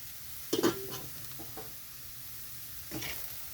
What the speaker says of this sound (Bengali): এখন একটু নেড়ে চেড়ে ভালো করে ভেজে নামিয়ে নেব।